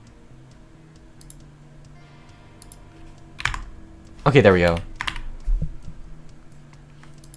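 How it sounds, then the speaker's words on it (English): Computer keyboard typing comes as faint ticking keystrokes, with a louder burst around the middle, while a person speaks briefly. "Oh, look at me typing."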